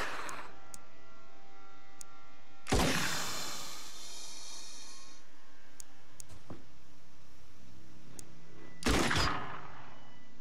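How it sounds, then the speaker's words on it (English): Two loud shotgun blasts from the Xenonauts video game, one near 3 seconds and another near 9 seconds, each a sharp crack with a brief decaying tail, separated by quiet ambient hum and a few faint clicks. "And some shotgun."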